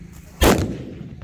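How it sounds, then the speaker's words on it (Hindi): A single sharp Diwali bullet bomb firecracker blast, loud and close, followed by a short rumbling decay against quiet outdoor background. "धमाका देखा कितना जबरदस्त था"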